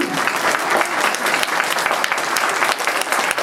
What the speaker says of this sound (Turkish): Bir alkışlayalım bakalım.